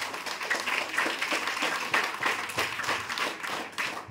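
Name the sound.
students clapping loudly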